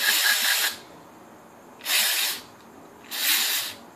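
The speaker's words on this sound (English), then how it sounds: "So we're going to go ahead and spray it down." Three bursts of aerosol cleaner hiss onto a car's mass air flow sensor, each about half a second long and separated by short pauses, loud and close with no talk.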